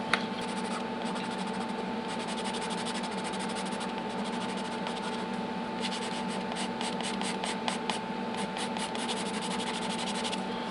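Pencil sketching loose shapes on paper for a mountain landscape drawing, a steady close scratchy scraping that runs continuously, with quicker stroke bursts toward the end over a constant background hum.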